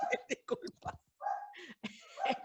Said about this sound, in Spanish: tocaron el timbre y el perro ladra